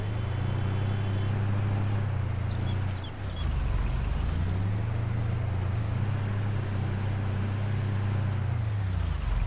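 A car drives in Farming Simulator 22, a loud, steady engine hum that dips briefly midway and then rises again.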